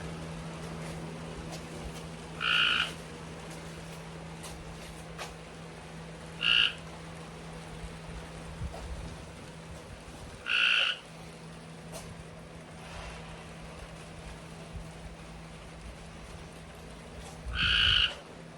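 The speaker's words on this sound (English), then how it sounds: "I got a frog somewhere up in here." Four short frog croaks spaced several seconds apart, moderately close, over a steady low hum and faint background noise.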